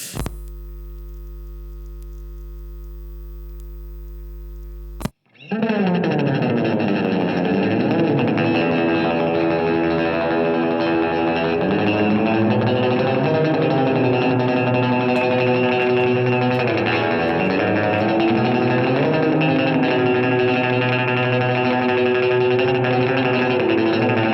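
A sustained electric guitar tone washed in heavy reverb and distortion, ringing on continuously after a brief held synth note and a short gap.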